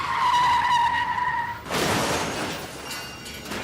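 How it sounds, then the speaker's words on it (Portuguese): Car tires skid loudly in a road-safety radio spot: a piercing, tonal squeal holds for about a second and a half, then breaks into a harsh, noisy scrape that trails off gradually, with no voices. "Chefe está derrapando."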